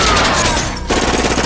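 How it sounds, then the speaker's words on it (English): Heavy movie shootout gunfire between police and robbers at an armored truck heist, a dense, loud, continuous barrage of shots with only a brief dip in the middle. "gunfire erupts and bullets ping off metal and pavement"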